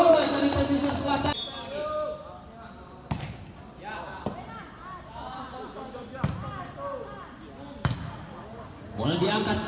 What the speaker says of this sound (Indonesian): Spike keras masih bisa diangkat, dibalas dengan pukulan keras oleh nomor punggung 5 dari posisi selatan.